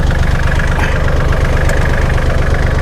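A used Kubota L3408 tractor's diesel engine idles close by, a steady low chugging rumble with an even, continuous rhythm.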